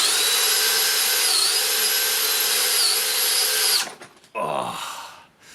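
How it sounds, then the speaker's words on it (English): A Dewalt Powerstack hammer drill in low gear drives a hole saw with a loud, sustained whirring drone. It cuts off, then restarts briefly in a rougher, lower burst before stopping. "We'll now drop it down to low gear."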